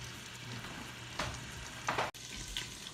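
Jalapeno popper chicken searing in bacon grease, a steady close sizzle with two louder bursts of spattering and a brief clunk, with no talking.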